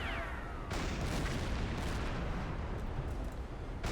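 A ship blows up in the Silent Hunter 5 submarine game, a loud, dense rumbling explosion that roars continuously and close for several seconds.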